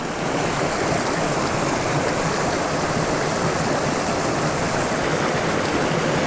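A small trout creek in South Dakota flows steadily, its continuous rushing water filling the whole stretch at an even level, with no voices over it.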